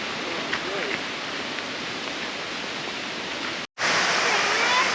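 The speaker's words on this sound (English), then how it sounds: "So we are just walking down to Cool Moon Creek Falls." Waterfall at Cool Moon Creek Falls in Far North Queensland, a steady broadband roar of falling water that runs continuously and loud, with a brief cut near the end before the rush resumes.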